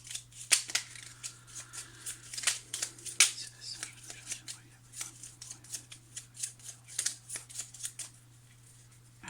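Tarot cards are shuffled in the hands, a run of quick papery riffles and slaps in irregular bursts close by, over a low steady hum.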